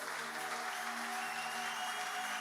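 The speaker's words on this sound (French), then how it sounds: "Est-ce qu'on peut applaudir l'éternel Dieu?" A church congregation claps steadily throughout, a dense, even wash of applause with no break and no talking over it.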